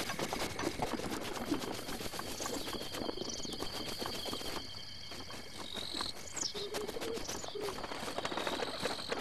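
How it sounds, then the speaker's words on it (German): Birds calling in the open wilderness of Zelda: Breath of the Wild, with several short chirps and coos over a steady bed of insect and cricket buzzing and ambient hiss throughout. "Ein Vogel."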